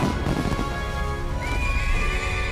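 A horse whinnies with clopping hooves in the video game Metaphor: Refantazio, a knight-on-horse archetype summoned amid a steady game soundtrack; the neigh rises clearly in the second half over continuous background music.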